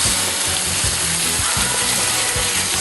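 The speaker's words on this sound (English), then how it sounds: "Sizzling really good." Pot roast meat searing in hot oil in a pot, a loud close sizzle with steady crackling hiss and a few low bumps as it settles, with no speech.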